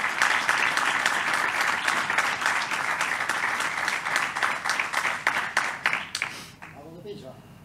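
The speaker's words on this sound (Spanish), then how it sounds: "Un aplauso." A crowd at a civil protection recognition ceremony claps steadily for several seconds, a dense, moderately distant round of applause that thins out and stops, leaving quiet room noise at the end.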